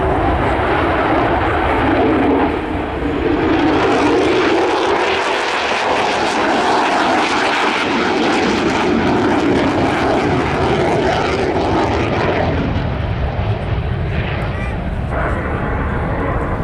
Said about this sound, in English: Now what we should be seeing next is the aircraft turning back in